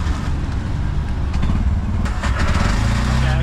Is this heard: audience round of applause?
no